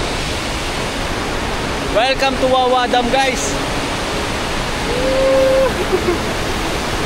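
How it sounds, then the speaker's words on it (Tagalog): Steady, loud roar of a strong waterfall pouring over the Wawa Dam spillway in the Philippines, a constant broadband rush filling the whole clip, with a person speaking over it in the middle. "Ito na, napakalakas ng bagsak ng tubig."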